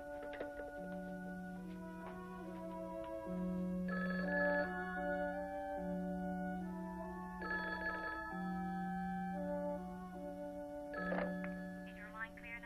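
A telephone rings back from the operator with repeated bursts of ringing and tones, fairly faint, with voices speaking around it.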